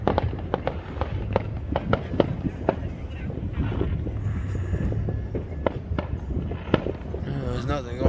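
Fireworks pop and crackle on the 4th of July, many sharp bursts going off in quick irregular succession from several directions, mostly at a distance, with someone talking over them.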